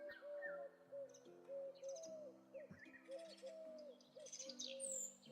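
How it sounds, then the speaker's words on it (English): Owl hooting sounds in a video game, repeated soft hoots overlapping in an uneven rhythm, with higher chirps and calls near the end. "Oh, look, legacy sheep and owl sounds."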